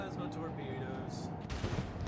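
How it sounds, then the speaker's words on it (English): Plasma torpedoes fire in the Rogue Trader video game as a dense, continuous barrage of booming, crackling blasts, with a heavier burst near the end. "Plasma torpedoes."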